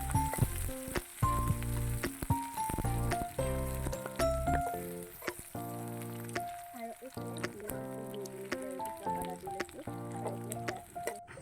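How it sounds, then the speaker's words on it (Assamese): Onion, green chili and ginger fry in hot oil for a village-style Assamese chicken dish. A steady, close sizzle with light stirring runs beneath someone talking throughout. "এতিয়া তেল গৰম কৰি এইফালে ভোট জলকীয়া আদা দিছোঁ, আৰু এইফালে পিঁয়াজটো দি দিছোঁ।"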